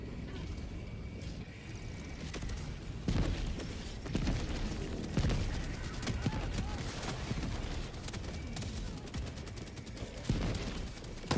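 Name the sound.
gunfire in a video game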